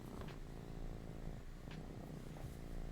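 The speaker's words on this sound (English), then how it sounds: "this cat is rubbing his face on the microphone" A cat purrs close up while rubbing its face against a microphone in a stable interior, a low continuous rumbling purr with soft brushing rustles over it.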